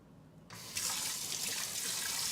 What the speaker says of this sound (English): I'm gonna rinse off the knife.